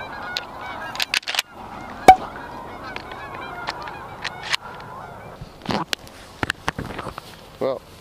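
Geese honk during an outdoor duck hunt, a scattered series of loud, sharp calls at varying distances over quiet background, with brief voices mixed in.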